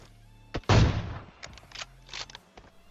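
Sniper gunfire in PUBG Mobile: one loud, booming shot with a rolling echo tail dominates, surrounded by a few quicker, fainter cracks and thuds.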